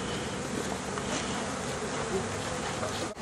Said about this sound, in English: You get rid of most of the bees.